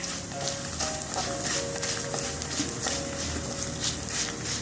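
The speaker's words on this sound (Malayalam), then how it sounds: "മല്ലി ഒന്ന് മൂത്തോട്ടെ" Whole coriander seeds roasting dry in a pan while making ulli sambar, giving a steady soft sizzle and crackle throughout, fairly quiet and close.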